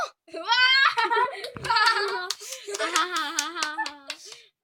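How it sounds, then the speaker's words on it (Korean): Several quick hand claps ring out close by during a gaming session, mixed in with excited, high-pitched voices talking and laughing over them. "박수 안 쳐?"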